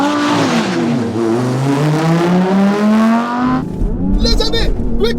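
A remapped family car launches hard under launch control, its engine rising and falling through the revs with tyre noise, loud and close, then cut by a sharp shift into rougher noise, with people's voices mixed in.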